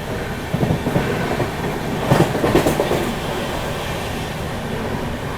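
Gorakhdham Express rolling slowly along the rails, a steady low rumble of wheels with soft clickety-clack joints and a few louder clanks midway, heard from inside the moving train with no talking.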